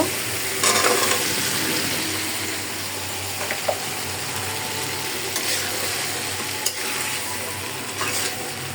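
Washed winter vegetables sautéed in a pan of fried spice paste, a steady loud sizzle running throughout with occasional spoon scrapes and clinks, close up.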